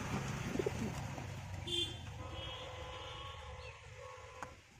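Pigeons of an old bloodline kept together in one place, cooing softly: a few low coos early, then faint chirps over quiet background hum.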